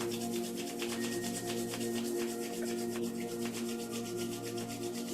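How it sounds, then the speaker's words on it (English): Two palms rubbed briskly together in a steady, continuous friction rhythm, close and alone, during a guided hand-warming ritual. "Rub your palms together."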